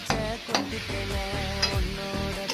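Date palm jaggery being stirred as it melts in a pan: a utensil scrapes and knocks against the metal in a steady rhythm over a soft sizzle, close and fairly loud.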